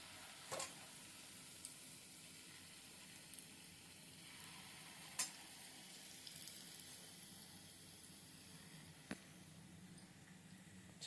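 Bondas deep-frying in hot oil give a soft, steady sizzle with faint bubbling, broken by a few sharp clinks and scrapes at close range, with no talking.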